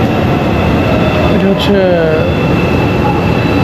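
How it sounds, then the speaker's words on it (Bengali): Underground metro train on the Seoul subway, a steady rumbling roar with faint tonal whines from the wheels and motors, heard from inside over continuous noise while a person speaks briefly. "মানে জিহা পাতাল ট্রেন"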